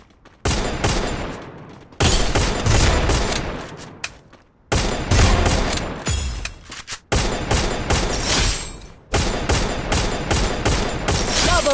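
Woodpecker gun firing in the Free Fire video game: four long, loud, sustained bursts of rapid shots, each cut off abruptly by short silent gaps, close and dominant with no talking.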